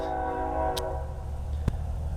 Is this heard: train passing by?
yes